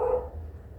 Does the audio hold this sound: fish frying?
no